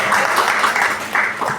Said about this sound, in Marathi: सर्वांनी सुनीलसाठी जोरदार टाळ्या वाजवायच्या.